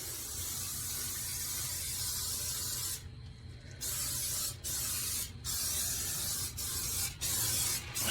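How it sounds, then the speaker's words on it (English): A steady hiss of canola oil spray from an aerosol can onto the inside of a grill, coming in several bursts with short pauses between them, close and fairly loud. "spray painting the inside of the grill with this lovely canola oil"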